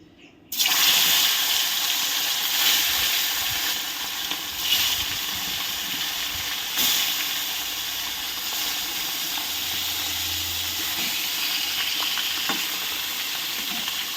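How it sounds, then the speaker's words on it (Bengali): Rohu fish fillets frying in hot mustard oil in a kadai give a loud, steady sizzle with no one speaking, continuous crackle and spatter running throughout. "এবার আমি মাছগুলোকে ভেজে নেব।"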